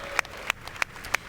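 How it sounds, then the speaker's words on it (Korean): Applause in the House chamber for Mike Johnson as his speech ends, heard as four distinct, evenly spaced sharp claps standing out over a faint, sparse background patter. "지금 마이크 존슨이 박수를 막 받고 있어요"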